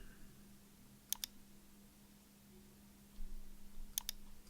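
Mouse clicks in accounting software: two quick double clicks a few seconds apart, crisp and close in an otherwise quiet room with a low background hum.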